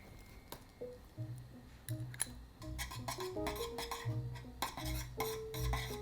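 Whisk stirring custard with butter and flour in a pot, irregular soft scraping and clinking of metal against the pan in uneven bursts, close and fairly quiet, with occasional light knocks.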